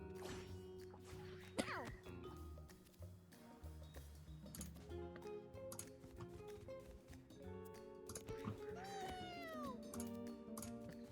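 A cat meows in a video game, with a couple of rising, wavering meows over sustained musical tones and light ticking taps.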